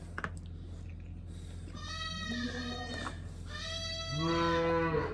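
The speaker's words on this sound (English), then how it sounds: "If you can hear in the background, it sounds like one of our nannies that had a couple kids." Several long, wavering bleats from a nanny goat that recently had kids call out in sequence, the last one louder and deeper, with no talking.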